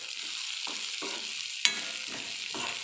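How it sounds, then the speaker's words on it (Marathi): Carrots and peas being stirred in a pan with coriander powder, a steady frying sizzle with several soft scraping strokes and one sharp clink of the spoon against the pan, close and alone. "धना पावडर मी आत्ताच आणली आहे त्याच्यामुळं मी त्याचं पॅकेट फोडलं पण नाही आत्ताच फोडलं त्याला मिक्स करून घेऊया"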